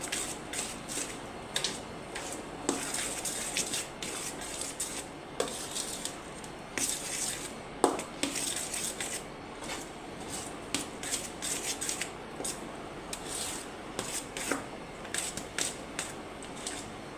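Spoon scraping and clinking against a bowl while shrikhand mixture with added malai cream is stirred, a steady run of soft clicks and taps close by with no voices.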